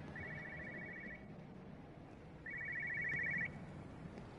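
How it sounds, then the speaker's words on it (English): A faint electronic phone ring from the video game Everybody's Gone to the Rapture in two bursts, one short and one longer, over a quiet room tone. "hearing the phone ringing."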